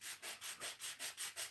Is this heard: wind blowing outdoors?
no